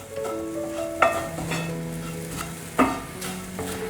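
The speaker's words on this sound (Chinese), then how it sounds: "快速翻炒" A potato dish with curry powder is stir-fried quickly in a pan over a continuous sizzle, with two sharp scraping clanks of the spatula against the pan standing out.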